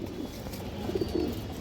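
Pigeons bred for colour give soft, low coos, a few short murmured calls close by in a quiet loft, with no voices.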